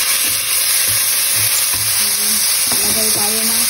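Tomatoes sizzle and fry loudly in a pan with garlic, a steady crackling hiss broken by a few stirring knocks and scrapes, close and continuous.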